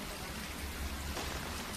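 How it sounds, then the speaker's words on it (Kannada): Heavy rain pouring over Bengaluru during a hailstorm, a steady dense roar of falling water with no break, moderately loud and heard alone. "ಬೆಂಗಳೂರಿನ ತುಂಬಾ ಇಂಥ ಮಳೆ"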